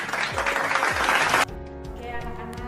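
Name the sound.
classroom applause for a student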